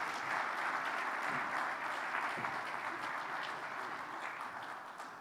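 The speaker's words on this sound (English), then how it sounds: "keep clapping" Sustained applause from a large conference audience, a steady dense wash of many hands clapping at moderate distance, continuous without talk throughout.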